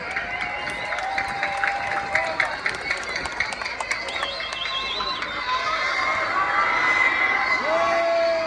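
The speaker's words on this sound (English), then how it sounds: "Give her a round of applause." A street-rally crowd in Dublin applauds and cheers for a woman introduced as the next speaker, with whoops and shouts rising over steady clapping and some voices in the mix throughout.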